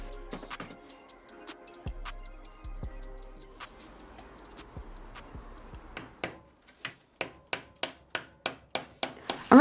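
Hammer driving nails into wood offcuts for a trellis planter: sharp wooden taps, scattered at first, then a steady run of evenly spaced, increasingly loud blows toward the end, close by.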